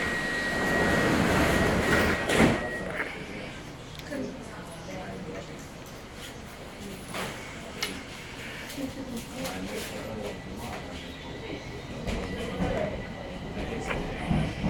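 Bucharest metro train on line M3 departing, with a loud rumbling roar of motors and wheels building inside the carriage and a rising electric whine, while an announcement voice speaks over the noise.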